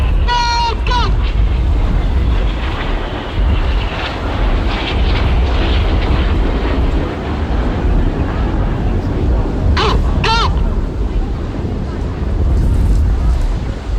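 Red Arrows display jets, Hawk fast jets at Bournemouth Air Festival, roar loudly overhead in a sustained broadband rush with wind buffeting, while a commentator's voice rises briefly above the engine noise.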